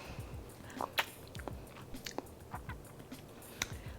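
Close, quiet chewing and crunching of raw corn salad with fermented onions, poblano and herbs, a run of soft irregular bites and wet mouth sounds with no talking.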